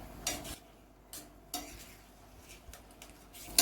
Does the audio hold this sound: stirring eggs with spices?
yes